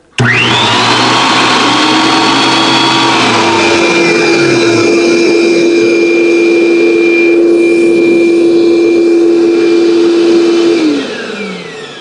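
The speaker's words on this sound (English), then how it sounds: "Once I turn on the planer" A thickness planer starts up together with a shop vac that switches on automatically, giving a loud, steady roar and whine that runs almost throughout and then drops off near the end.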